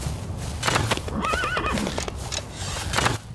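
A horse in the survival game Rust neighs in a clear, rising-and-falling whinny near the middle, set against steady game ambience with soft hoof clops around it.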